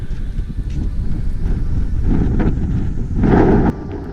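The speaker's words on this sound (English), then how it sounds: "it's a pity it's so windy" Strong gusting wind buffeting a microphone on a windswept Australian beach, a continuous low roar that swells in heavy gusts, loudest near the end, with no voices.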